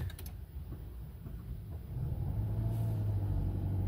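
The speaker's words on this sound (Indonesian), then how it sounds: "Nah, itu suara mesinnya ya pas ketika saat dinyalakan." A Honda CR-V engine starting: a low rumble that steps up after a couple of seconds into a steady idle hum, heard close from the cabin.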